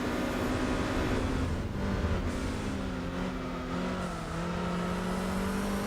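Engine drone of a car being driven in Gran Turismo 4 on a Seattle circuit, a steady loud hum with shifting pitch and no talk.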